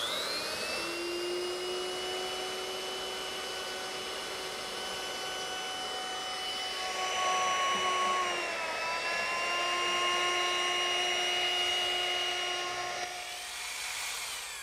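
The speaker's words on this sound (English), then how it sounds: "I'll use the same router setup that I used before" A router shapes a quarter-round edge along the wooden saddle of a rocking horse, a loud, steady high-pitched whine that holds for the whole stretch, dips briefly, then resumes and cuts off at the end.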